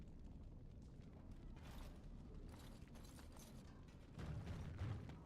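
A heavy door in Dragon Age: Origins creaks and grinds open with a low mechanical rumble, faint and distant throughout, swelling slightly near the end.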